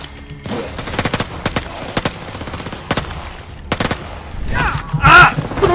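Bursts of rapid video-game gunfire crackle in sharp, repeated volleys, some clustered like machine-gun fire and others as isolated shots, with a brief exclamation near the end.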